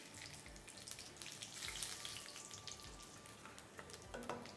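Asafoetida, whole red chillies, cumin and black peppercorns hitting hot mustard oil, a steady close frying crackle and sizzle that holds throughout at low level with a few small pops.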